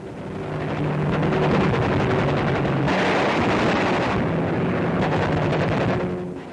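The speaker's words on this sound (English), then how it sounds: "Nazi installations on the Dutch coast were blasted mercilessly and virtually without opposition" Heavy bombing blasts on Nazi installations along the Dutch coast, a continuous loud rumble of detonations and booming fire that swells and fades in waves, with no voices.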